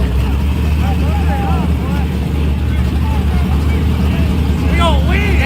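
Racing car engines in a street-racing video game, a steady loud droning motor hum running throughout, with a few rising whine sweeps near the end.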